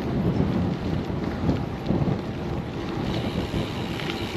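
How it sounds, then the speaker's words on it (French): Strong, steady wind roaring and buffeting the microphone with low rumbles during a long-distance gravel bike ride by a canal, a constant blustery wash with no talking. "il y a énormément de vent"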